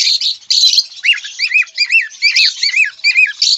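Black and lutino cockatiels caged for sale at Tarakeswar market squawk and chirp in quick, repeated bursts, close and loud, with no voices over them.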